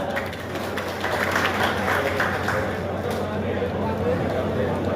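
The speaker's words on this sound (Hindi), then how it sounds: "एक बार जोरदार तालियों के साथ।" Audience clapping at a farmers' meeting about autumn sugarcane sowing, held by a sugar mill. The clapping is a steady, dense wash that lasts the whole stretch, with voices faintly mixed in.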